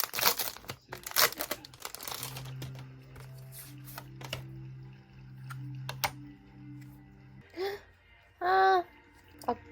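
Plastic protective film crinkling and peeling off a Daiso acrylic photo card frame, close-up with bursts of sharp rustles and handling clicks, and brief voice sounds near the end.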